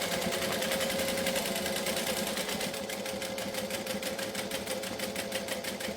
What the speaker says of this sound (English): Now I'm stitching this with about a 3/8 of an inch seam allowance